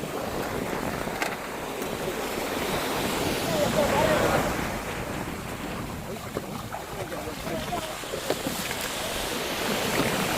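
Sea waves washing steadily onto a shore where the water is eroding the bank, a broad continuous rush with wind noise buffeting the microphone.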